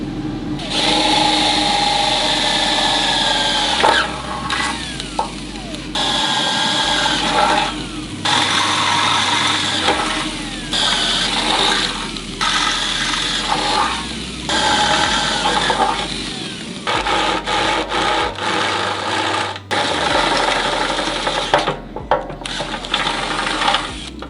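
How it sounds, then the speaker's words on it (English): A steady, loud mechanical whine of a power drill drilling holes in a fuel tank runs almost continuously, stopping and restarting in bursts, with a grinding, buzzing tone throughout. "So I'll quickly drill these out"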